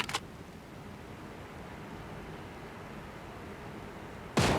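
Bolt-action rifle fire in PUBG Mobile, with a sharp shot at the very start and another at the end, separated by a low, steady background rumble.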